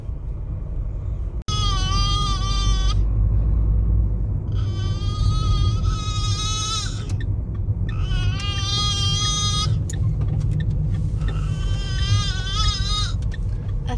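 A voice imitating a lamb bleating inside a moving car, four drawn-out wavering bleats spaced a couple of seconds apart over a steady low road rumble.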